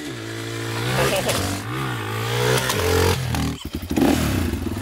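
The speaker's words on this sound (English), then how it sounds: "Wheelie time with Kev." A supermoto motorcycle engine revving hard during a wheelie in Switzerland, loud and close with rising and falling pitch, a brief drop-off and sputtering recovery near the end, with talk over it.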